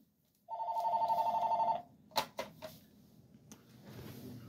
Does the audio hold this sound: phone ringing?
yes